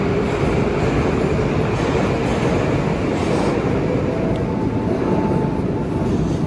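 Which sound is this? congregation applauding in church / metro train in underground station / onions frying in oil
metro train in underground station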